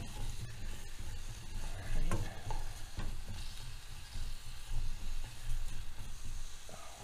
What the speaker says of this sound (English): Alright, let that start to fry.